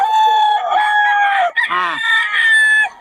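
Rooster at a fowl yard in Bocaue crows loudly and close by, two long drawn-out calls separated by a brief break, with no talking.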